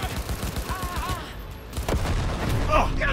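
Gunfire in the Cyberpunk 2077 video game during a corporate-story mission, a burst of overlapping shots and booms with a speaking voice underneath near the start, heavier blasts building toward the end.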